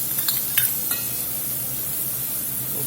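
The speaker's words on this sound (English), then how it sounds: "Get a little butter in the pot. We're going to get this jalapeno in here." Sliced jalapeno hitting melted butter in a pot for cheese sauce, a steady hiss of sizzling with a few brief clinks and stirring scrapes near the start, fairly close and without talk.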